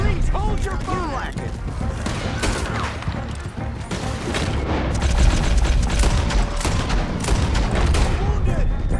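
Dense gunfire and booms fill a Red Dead Redemption 2 shootout, continuous volleys of overlapping rifle and pistol shots with characters' voices calling out over the loud, sustained battle.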